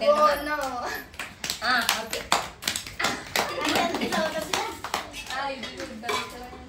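Several people clap in a quick, loose burst of hand claps at a home biryani meal, mixed with chatter and a voice, plus some clinking of dishes and cutlery.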